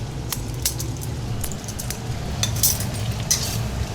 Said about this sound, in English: need to start paying attention and stirring a bit more, so that it doesn't attach at the bottom